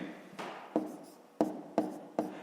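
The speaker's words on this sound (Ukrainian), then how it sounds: "Пишемо в дужках чого гривень" A pen writes on paper during a fifth-grade maths exercise, making quick scratchy strokes punctuated by several sharp taps, close and quiet with no talking.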